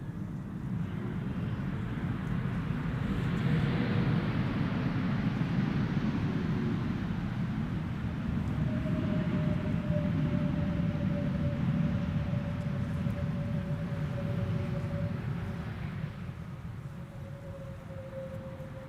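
A JetBlue Airbus A321neo arriving at Amsterdam Schiphol from New York JFK, a steady broad jet roar swelling and holding for many seconds with faint whining tones, then easing off slightly, no voices.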